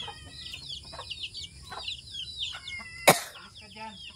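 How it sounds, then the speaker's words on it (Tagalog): Rhode Island chickens cluck and call in bursts at a rural Philippine homestead, nearby and moderately loud, with a sudden sharp knock partway through and faint voices in the background. "Ring namin Rhode Island nga tandang."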